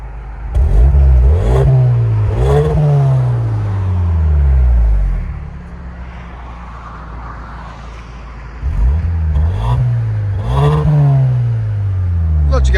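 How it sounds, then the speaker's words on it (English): A 2024 Hyundai Sonata N-Line 2.5L exhaust with its Valvetronic valves open revs hard in repeated loud bursts that rise and fall, a deep rasp with idle between the pulls, and a voice talks briefly over it. "So this is with the valves open on a Hyundai Sonata 2024 N-Line."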